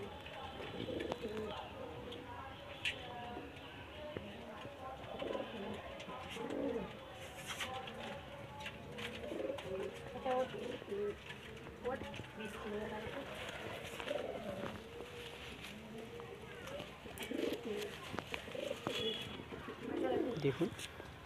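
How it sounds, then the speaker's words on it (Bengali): Jiria pigeons kept at home coo softly and repeatedly at close range over about twenty seconds. A person talks over the soft, continuous cooing. "এটাও জিরিয়া পায়রা।"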